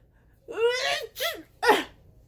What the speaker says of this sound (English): I felt a sneeze coming on